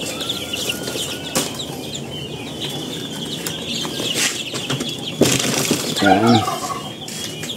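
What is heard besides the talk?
chicks in a cage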